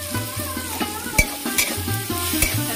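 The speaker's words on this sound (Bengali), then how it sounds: "সাথে ভালো করে ভেজে নেব।" Turmeric, chili and cumin powder fry in a pan with a steady close sizzle, while a spoon scrapes and stirs in a regular rhythm of repeated strokes.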